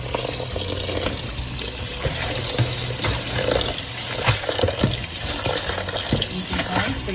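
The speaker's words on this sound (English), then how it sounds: "definitely wanna let that water beat on the rice." Tap water runs steadily onto rice being washed in a pan, a loud continuous gushing splash with small irregular spatters throughout.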